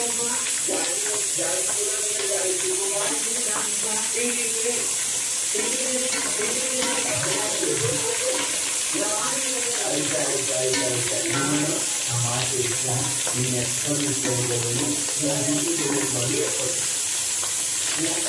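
Onions and green chillies frying in oil for mutton dum biryani, a constant loud hiss and sizzle throughout, with a voice talking over it.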